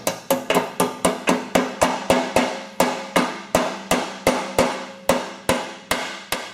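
Light hammer taps seat a Craftsman/Husqvarna mower deck spindle, about nineteen sharp metallic strikes in a steady, brisk rhythm, close and fairly loud with a short ringing decay after each blow and no talking.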